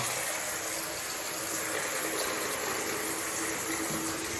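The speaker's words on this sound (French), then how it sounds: "Ça, on met un peu d'eau, voilà." Water steadily running or poured into a container, a continuous close rush with no pauses or talk.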